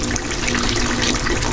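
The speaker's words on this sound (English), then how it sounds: "Turn on the water." A bathroom tap turned on, sending a loud, steady rush of running water splashing continuously, close by and without any voices.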